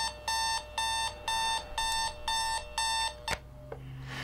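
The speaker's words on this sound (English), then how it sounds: "I can't stand those alarm clocks, bro." An alarm clock rings in a short film, loud repeated bursts of electronic beeping in an even rhythm that cut off with a sharp click, followed by quieter room noise.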